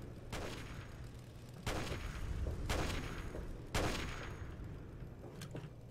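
Gunshots aimed at bottles in Fallout 3: four or five sharp, loud reports spaced roughly a second or two apart, each followed by a short echoing decay, with no talking.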